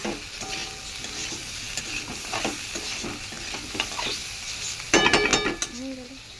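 Salted potatoes cooking and being stirred in a pan: a soft sizzle with scraping stirs, then a brief burst of utensil clinks against the pan near the end, close by.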